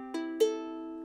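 Ukulele strummed twice in quick succession, a soft bright chord ringing out briefly with nothing else present.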